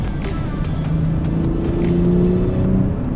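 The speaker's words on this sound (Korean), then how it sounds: "그 BMW가 그 엔진 회전수를 높였을 때" A BMW 8 Series coupe's engine revs up from inside the cabin, with its sound boosted through the car's speakers, giving a rising steady drone with a few brief clicks.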